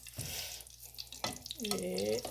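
Radish poori paratha frying in a pan while being turned with a spoon, a steady sizzle with a few scraping stirs, close by and fairly quiet, and a brief voice joining near the end.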